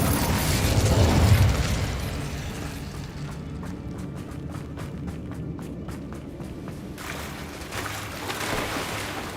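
An Incendio fire spell cast in Hogwarts Legacy, heard as a loud whooshing burst at the start, followed by a quieter mechanical clicking rattle and a renewed rush of noise near the end.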